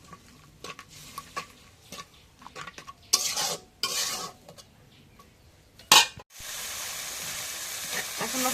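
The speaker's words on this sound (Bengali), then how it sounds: "এখন নাড়া দিয়ে দিই।" Curry spices, with salt just added, stirred in a frying pan during home cooking: intermittent scraping and clinking strokes of a spoon against the pan over a soft sizzle, with a louder burst of frying hiss near the end.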